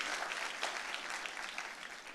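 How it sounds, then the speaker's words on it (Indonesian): Church congregation applauding during a sermon, continuous even clapping from a large group, fairly distant and soft, with no one speaking over it. "Tepuk tanganmu yang paling meriah buat Yesus Tuhan kita"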